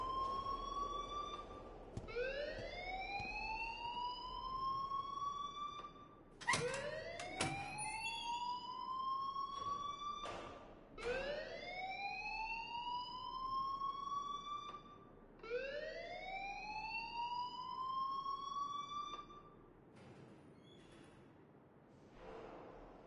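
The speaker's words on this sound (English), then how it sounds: "please turn off that alarm since that's your job" An electronic alarm wails in repeated rising sweeps, each climbing whoop lasting a few seconds before restarting, loud and continuous with no speech over it.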